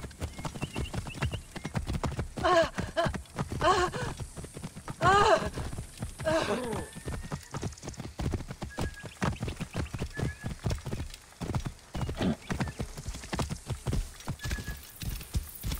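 Horse hooves clip-clopping at a steady gallop in Assassin's Creed Origins, rhythmic and fairly close, with a few snorts and whinny-like calls over a busy game background.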